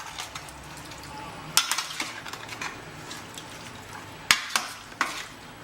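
Chicken pieces being stirred with spices in a pan for chicken pasanda, the spoon scraping and clinking against the metal at irregular intervals, with a few sharp knocks over a low sizzling background.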